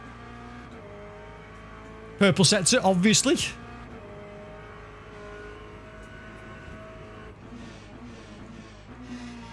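A race car in Le Mans Ultimate hums along with a steady engine tone, broken by a loud burst of rapid high revving and downshifts for about a second, with a voice talking briefly.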